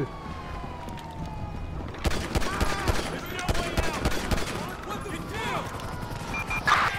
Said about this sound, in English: Units reporting shots fired at an officer